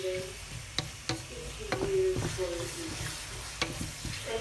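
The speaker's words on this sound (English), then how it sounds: "after I fry this for like 1 or 2 minutes, then I will put the noodle." Vegetables and pepper frying in a pan for Chinese-style fried noodles, a continuous close sizzle with repeated clicks and clatters of stirring and a few brief squeaky tones, no speech.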